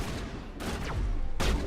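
Gunfire from Mass Effect Legendary Edition, a video game: a few loud bursts and blasts over a constant noisy battle bed, with sharp onsets near the middle and end.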